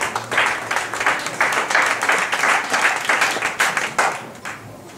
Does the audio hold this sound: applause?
yes